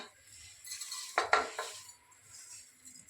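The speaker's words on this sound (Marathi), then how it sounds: "हे तांदूळ टाकले मी" A short rush of dry rice grains pours into a metal cooking pot, a brief rattling hiss over quiet background.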